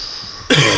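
A sudden close cough bursts out halfway through during a round of the horror game Outlast in psychos mode, loud and harsh after a quiet stretch with a steady high tone.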